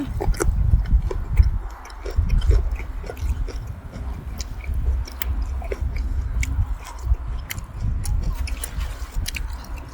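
Close-up biting and chewing of nam nueang, Vietnamese-style pork rolls from Mukdahan, with moist crunchy mastication repeating in uneven bursts, no talk.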